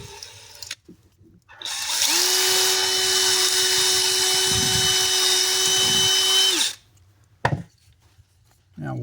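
A power drill bores a hole through a 3D printed plastic tuner part with one loud, continuous high whine lasting several seconds, held steady close by, with small clicks and handling noise before and after.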